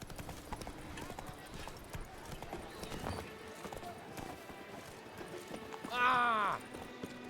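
The horse Roach from The Witcher 3: Blood and Wine gallops in a quick, steady clip-clop of hooves throughout, then gives a short whinny near the end, while a person talks over the game audio.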